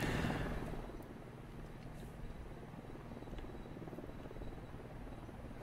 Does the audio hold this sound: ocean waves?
no